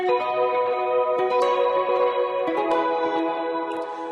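Clean electric guitar chords ring out with dotted-eighth delay echoes, chorus modulation and a long, shimmering reverb tail, steady and fairly loud throughout.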